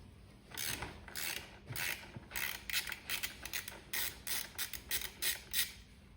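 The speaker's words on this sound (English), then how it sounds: "Next step is to remove the motor axle nut and suspension axle nut." A ratchet wrench loosens the 19 mm motor axle nut on a Dualtron Thunder 3 electric scooter during a tire change, with quick clicking ratchet strokes in an irregular rhythm, close and fairly loud with no talk.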